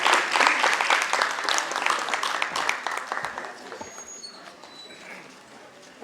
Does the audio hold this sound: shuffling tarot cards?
no